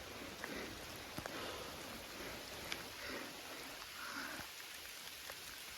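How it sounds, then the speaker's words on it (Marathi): Steady patter of rain falls around hikers on a jungle trek up Tahuli Peak, a soft even hiss with a few brief drops and knocks standing out nearby. "खालचं बघा पाऊस पडतोय खाली."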